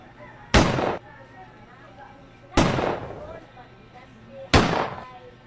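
Gunshot sound effects in a hold-up skit: three loud, sharp bangs about two seconds apart, each with a short decaying tail over a low background hum.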